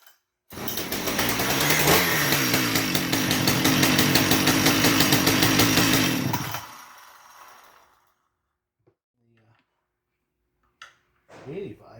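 A tuned Husqvarna 575 strato chainsaw fires up abruptly and roars loudly at close range for about six seconds, then cuts off and winds down to quiet, with a few faint clicks and shuffles afterward.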